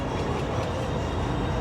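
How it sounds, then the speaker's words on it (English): A Disneyland parking tram rolls toward the main entrance, a steady close rumble of wheels and rolling noise with faint clickety rattles, continuous and fairly loud with no talk. "as we approach our final destination, please stay seated with those doors closed until the tram comes to a full and complete stop"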